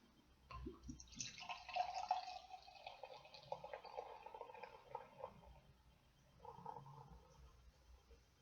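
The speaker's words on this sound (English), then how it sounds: "well, let's get it poured." Bell's Venus beer pours into a glass, a steady gurgling and splashing stream with a brief drop-off near the end before a final trickle, close and fairly quiet with no talk.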